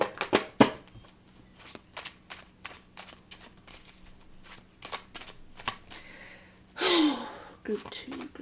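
Tarot cards are riffled and tapped in a quick series of crisp shuffles, close up, followed by a short breathy exhale.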